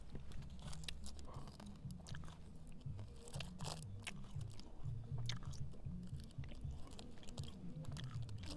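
Close, quiet chewing of a sticky, chewy lemon-flavoured sweet from a Polish military combat ration, with steady wet mastication and soft crunching bites repeating throughout, no talking.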